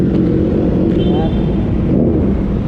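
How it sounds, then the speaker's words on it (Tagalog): A low, steady motorcycle engine rumble from passing traffic on EDSA fills the clip, loud and close, with a brief higher whine partway through. "ingay naman masyado ng mga ibang motor. Noise pollution na yun eh."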